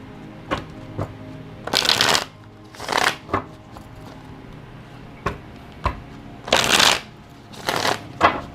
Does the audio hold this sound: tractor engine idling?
no